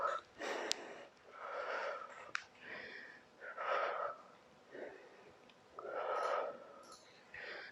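Forceful exhales through mouth and nose during a home HIIT cardio workout, with several breathy, wheezy blows in irregular succession, close and moderately loud, with no talking.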